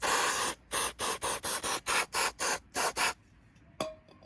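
Brake cleaner hisses from an aerosol can onto a Honda Grom's brake disc in about ten quick, evenly spaced bursts, close and sharp, followed by a brief pause and one last short spritz.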